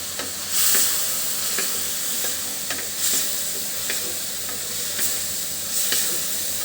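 Chopped tomatoes frying with spices for a tomato fish curry, a loud, close hiss and sizzle with repeated spoon scrapes against the pan every second or so, no voices.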